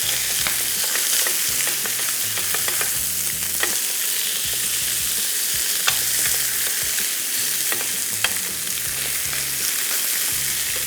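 Chicken sizzling steadily in a grill pan for teriyaki spaghetti, a constant close frying hiss with small crackles and pops throughout, no talk.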